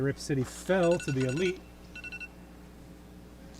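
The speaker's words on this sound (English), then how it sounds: "Sorry, that's my alarm on my phone." A phone alarm gives a brief run of quick electronic ringer beeps during a baseball game broadcast. The beeps come just after a commentator's speech, fairly faint under the background.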